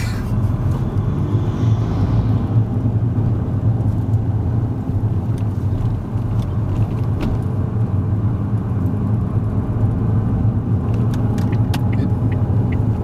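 Car engine rumbling steadily as a learner driver pulls away and drives on a test route in Milton Keynes, continuous low road and engine noise from inside the cabin, fairly loud, no clear talk.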